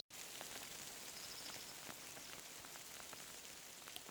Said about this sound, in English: The rainy season has finally arrived.